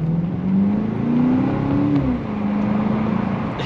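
A BMW X5M SUV's engine pulls hard under acceleration, a steady loud drone that climbs in pitch, eases briefly, then continues rising, heard from inside the vehicle.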